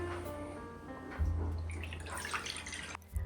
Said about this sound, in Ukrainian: в мисці змішуємо теплу воду